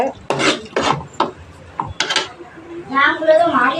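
A spoon scrapes and clinks against a metal pot of egg curry in a few quick strokes, followed by a brief voice and bubbling as it boils.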